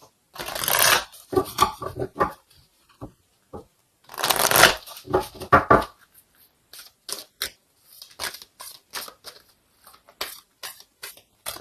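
Oracle cards shuffled by hand in a tarot reading: two loud riffling bursts, then a string of sharp, close card taps and flicks that thin out toward the end, with no voices.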